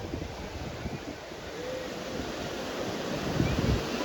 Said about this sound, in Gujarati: દરિયાના મોજા અહીંયા સુધી આવે છે